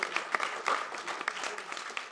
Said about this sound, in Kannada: ಜೋರಾದ ಚಪ್ಪಾಳೆ ಬರಲಿ ಸರ್ ಗೆ